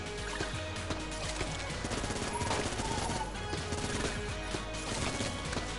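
Gunfire in Enter the Gungeon aimed at a cannon train, a dense, continuous barrage of rapid shots layered with busy game effects and no pauses.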